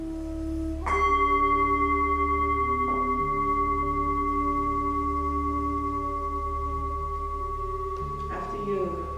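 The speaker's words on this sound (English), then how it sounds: "After you don't hear the gong anymore, you can begin to gently open your eyes." A gong struck during a guided yoga session in a glasshouse rings out with a bright, sustained shimmering tone, fading slowly over several seconds before a second soft strike near the end, heard alone.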